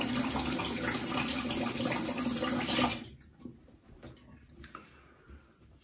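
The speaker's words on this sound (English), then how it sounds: "let me rinse this off" Running tap water rinsing a razor during a shave, a steady close splash that stops abruptly midway, followed by faint handling clicks.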